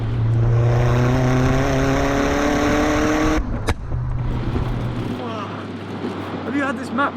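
A Stage 2 tuned VW Golf Mk4 GTI accelerates hard, its engine note climbing steadily in pitch for about three seconds before a sharp gear change, then pulling again under a steady drone, loud and close from inside the car.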